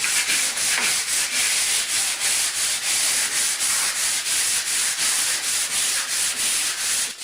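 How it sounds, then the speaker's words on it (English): Fresh sandpaper worked over pine baseboard trim in steady back-and-forth strokes, a loud, even, rhythmic scratchy rasp that continues without pause and with no voices. "The next step is the step I hate the most, sanding."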